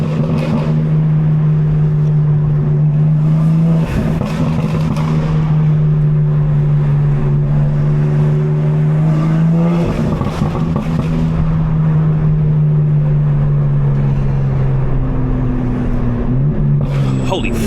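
A 750hp BMW M4 drones steadily from inside the cabin on a night drive, its deep engine and intake note holding a sustained hum with small surges around mid-run and near the end, voices briefly over it.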